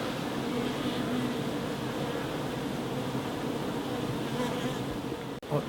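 Honeybees buzz in a beehive during an inspection, a dense, continuous droning hum close by with a faint click near the end.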